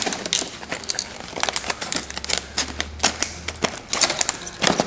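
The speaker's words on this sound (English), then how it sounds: "Gotta cut it with some industrial strength scissors here." Close, loud crackling and crinkling of stiff plastic packaging with sharp irregular snips as industrial-strength scissors cut it open, no talking.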